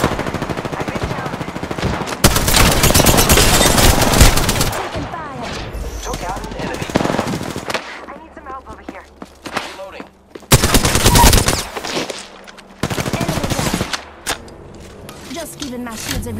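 Apex Legends firefight: loud bursts of rapid automatic gunfire in several long volleys, broken by short gaps and single shots, with game voice lines speaking between them.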